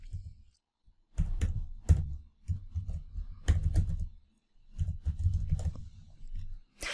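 Computer keyboard typing an email address, several quick bursts of clattering keystrokes separated by short pauses, close and moderately loud.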